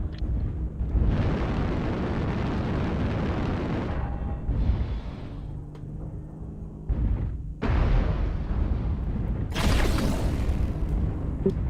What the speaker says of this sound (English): they're shooting PPCs at me from about 4 million miles away